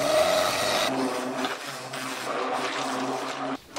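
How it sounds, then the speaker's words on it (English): A kitchen blender whirs steadily as it purees a batter of salt, sugar and flour, loud and continuous with shifting pitch before cutting off near the end, no talk. "we take our blender and we just blend this up till it's very,"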